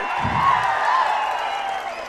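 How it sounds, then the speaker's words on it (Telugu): Crowd at a TDP political rally in Parchur claps steadily and loudly, a dense continuous wash of applause with some cheering mixed in, running the full length without pause. "గట్టిగా చప్పట్లు కూడా చెప్పండి"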